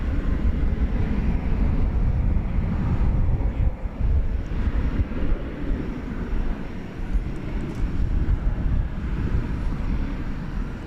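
A Cathay Pacific airliner bound for Hong Kong at Dallas-Fort Worth International Airport at night, a steady broad jet engine roar rumbling at a distance throughout, fairly constant in level with no speech.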